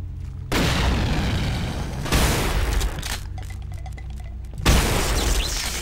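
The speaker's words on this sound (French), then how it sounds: "Grenade!" Big grenade blasts in the Doom mod Divine Frequency, three heavy booming bursts with broad crashing noise, each ringing on with debris and echo between them, loud and close with no talk.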